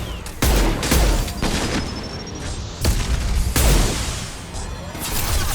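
Weapon fire loaded with disruptor ammo in the Mass Effect 2 video game, bursts of booming shots and impacts recurring across the clip over a dense, steady wall of combat noise.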